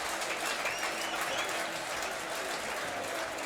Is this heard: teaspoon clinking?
no